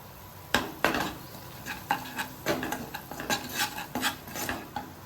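A spoon stirs salted yam and tomato masala in a pan, giving a run of close scraping strokes with sharp clinks against the metal, steady and rhythmic, with no voices.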